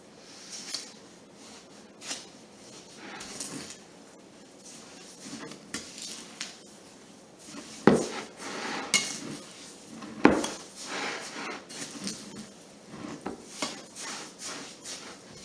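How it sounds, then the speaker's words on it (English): Strawberries stirred into sugar in a bowl produce faint, irregular scraping and clinking of a utensil against the dish, with a couple of sharper knocks. "just mix the strawberries through your sugar like that"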